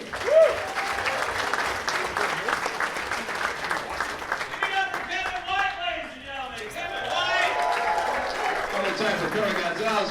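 A comedy show audience at Orlando Megacon 2019 applauds a comedian, a sustained wash of clapping and crowd noise lasting the whole stretch with a host's voice over it.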